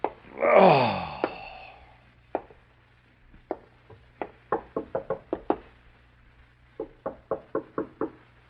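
Knuckles rap on an apartment front door in a radio drama, in sharp, close knocks that come in short irregular bursts, some quick and clustered, after a brief moaning gasp at the start.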